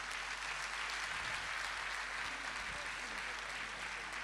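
Audience applause at a mushaira in Delhi welcoming the poet Rahat Indori, a dense, continuous wash of clapping throughout.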